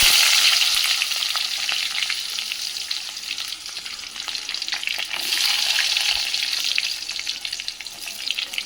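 Onions hit hot oil with popped mustard seeds, giving a continuous close sizzle scattered with sharp crackles and spatula stirs.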